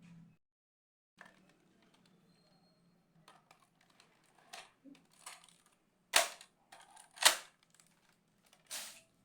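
A Nerf Elite 2.0 Echo blaster is slam fired, giving sharp plastic snaps and clacks in quick irregular bursts, the loudest shots near the end, with quieter mechanical clicks between.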